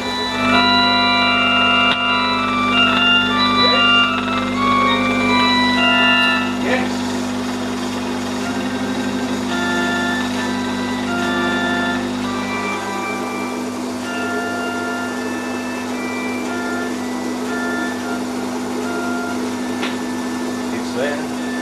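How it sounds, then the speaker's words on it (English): An old BBC Compton Electrone electronic organ plays sustained tones and short note clusters, with some notes missing, over a steady electrical hum, fairly loud and close throughout. "the first noise that organ has made in a very long time"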